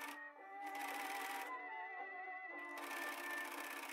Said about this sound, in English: I also serged the entire collar edge on the shirt